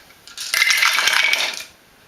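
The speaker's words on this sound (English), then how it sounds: "Let's roll our dice." Dice clattering and rattling as they are rolled and shaken in a Zombie Apocalypse dice game, a dense burst of small hard clicks lasting just over a second, close and fairly loud, with no talking.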